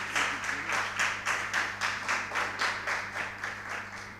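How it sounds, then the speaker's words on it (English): A short burst of applause from a group at a school quiz contest, claps coming in an even, rhythmic pattern that fades slightly toward the end. "A round of applause for him."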